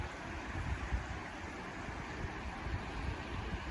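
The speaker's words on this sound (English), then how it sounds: "So now we have water running through here" Water in a small creek, diverted from a stream through a mountain camp's waterway, makes a steady, faint rushing wash that stays even throughout with no voices.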